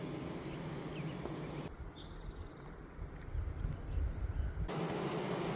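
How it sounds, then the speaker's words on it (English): Honeybees buzzing around a beehive frame during hive maintenance, a faint, steady insect hum close to the microphone with a brief higher-pitched whine from a passing bee. "There are some bees on it"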